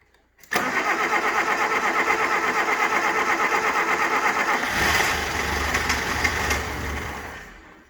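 A 1980 Suzuki LJ80 barn find, sitting unstarted for 15 years, cranks briefly and catches, then runs with a rough, loud, pulsing idle that deepens partway through before fading toward the end.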